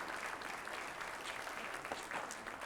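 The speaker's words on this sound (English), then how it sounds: "you can clap for that, absolutely" An audience claps for an improved school graduation rate at a school district's state-of-the-schools address, a dense, even patter of many hands filling the room at moderate distance, with no voices.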